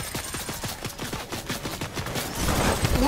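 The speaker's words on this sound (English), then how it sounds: "Is that Brute's minigun?" Minigun firing in the Fortnite video game, a rapid rhythmic burst of shots at a steady rate, then a denser, louder roar of gunfire toward the end.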